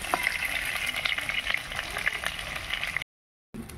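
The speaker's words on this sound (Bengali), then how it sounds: "তো দেখো আলুগুলো ভেজে নেওয়া হয়ে গেল।" Potatoes fry in hot oil for a mutton curry, giving a steady, close, crackling sizzle with small popping spits throughout. The sound cuts out briefly near the end, then resumes, with no talking.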